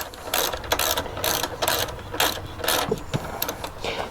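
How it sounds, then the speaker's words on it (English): Rapid ratchet clicks come in repeated bursts as a hand ratchet snugs the rear shock bolts on a Triumph T120 motorcycle, close and fairly loud, with no talking. "I should run these shock bolts in too. Just get them snug."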